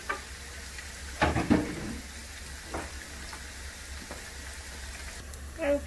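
Chopped onion and spring onion drop into hot oil for a chicken gizzard stew, giving a faint sizzle with a couple of louder bursts as they go in, then a quiet crackle.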